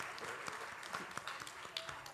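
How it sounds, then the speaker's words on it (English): Audience applause for an event organizing team at a women's leadership policy and politics dialogue in Dhaka, a steady wash of many hands clapping with scattered sharper claps, fairly close and continuous, no talk over it. "please join me in giving them a loud round of applause"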